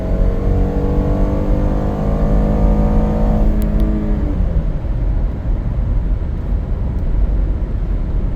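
A 2015 all-wheel-drive Police Interceptor Utility with a 3.7L engine accelerates hard, its loud engine drone climbing steadily in pitch for a few seconds before dropping into a rougher, steady roar, with no talk.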